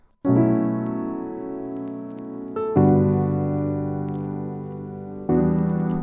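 A mellow upright piano, the Keyscape Wing Upright Dark Indie sample, plays three sustained chords, each struck and left to ring and fade before the next, close and fairly loud.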